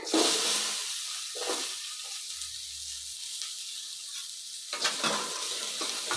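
Ginger and onion fry in hot oil in a pan for samosa filling, giving a continuous close hiss and sizzle with a few soft stirring scrapes.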